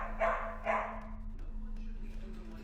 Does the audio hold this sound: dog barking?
yes